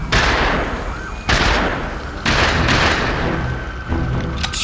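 Shotgun fire in the Fear the Walking Dead video game, four heavy booming blasts spaced about a second apart, each with a long decaying roar, loud and close.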